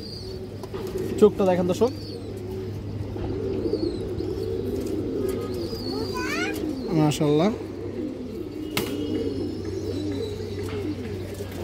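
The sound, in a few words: pigeons cooing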